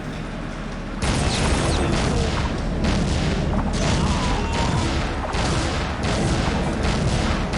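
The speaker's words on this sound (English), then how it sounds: "This is Buddy just unloading bullets to the back of his fucking head" Gunfire in the video game Soldier of Fortune: after a second of quieter background, a dense loud barrage of rapid shots and booms starts and runs continuously to the end.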